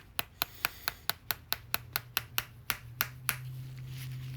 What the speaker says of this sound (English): I get my little jeweler hammer. Kind of start up and then just whack it in there